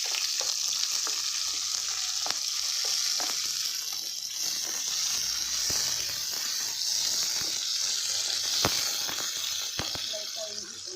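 Onions and green chilies sizzle in a pan already holding fennel and cinnamon for rava kichdi, a steady hissing fry broken by sharp clicks of a spoon stirring.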